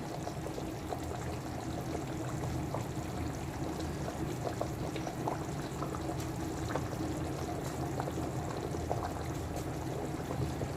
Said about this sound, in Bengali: এখন আমি ঝোলের মধ্যে ভেজে রাখা ভোলা মাছগুলোকে দিয়ে দিচ্ছি।